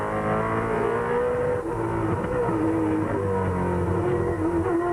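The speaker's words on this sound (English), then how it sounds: "Listen to the car as he has to muscle it down this tricky section of the track." A 2002 V8 Supercar engine roars loud and continuous at Hidden Valley race track, its pitch shifting through hard gear changes as the car is muscled through a tricky section, with no talk over it.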